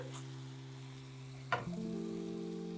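Chicken sizzling in a single pot as mushrooms are tipped in, a sharp clatter near the middle followed by a louder, steady close-up frying hiss.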